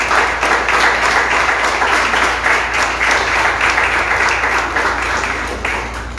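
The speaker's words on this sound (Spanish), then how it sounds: "Dale un aplauso bien fuerte al Señor." A church congregation claps loudly and steadily, a dense continuous wave of applause filling the room for several seconds.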